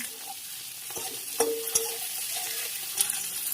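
Onion, tomato, green chilli and spices sizzle steadily in a hot pan, with several sharp scraping stirs of a utensil cutting through the frying.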